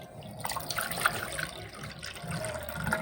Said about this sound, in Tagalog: tayo naman ay maglalagay ng tubig sa isang bowl